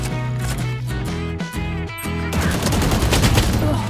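Gunfire in the video game Valorant: rapid bursts of shots crackle over a loud layered game soundscape with music-like tones, dense and continuous toward the end.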